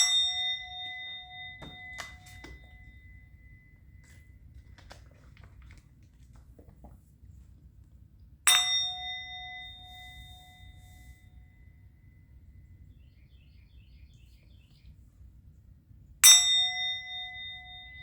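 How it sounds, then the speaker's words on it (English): A bell struck three times at long intervals, each a bright metallic clang with a long ringing decay fading into a quiet room, with a few faint taps in between. "I'm going to ring the bell."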